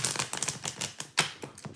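Tarot cards being shuffled by hand, a quick flurry of crisp flapping and riffling snaps, close and fairly quiet, with one sharper slap near the middle.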